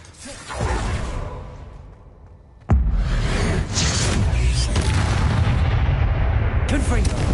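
A blasting spell explodes in Hogwarts Legacy, a sudden heavy boom that cuts in partway through and leaves a loud, sustained roar of debris and whooshing effects, following a softer rumbling build-up.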